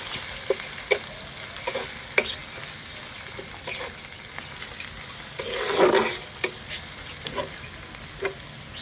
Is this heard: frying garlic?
yes